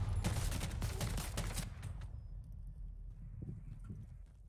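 Gunfire in the video game Call of Duty erupts as a dense, loud burst of rapid shots, then thins to scattered distant pops and a low rumble.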